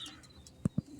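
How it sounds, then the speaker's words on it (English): Pigeon cooing in a bath, a quiet background murmur broken by two short, loud low coos in quick succession near the end. "He's trying to be a cute fat pigeon in the bath."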